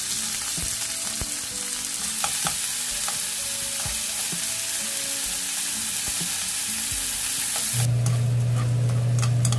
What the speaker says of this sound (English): spread some oil, and cook the beef. I cook over medium-high heat